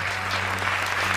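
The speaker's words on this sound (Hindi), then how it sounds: "ताली बजाओ" An audience at a Hindi comedy poetry gathering (hasya kavi sammelan) claps loudly and steadily, a dense wash of applause from a crowd with no one speaking over it.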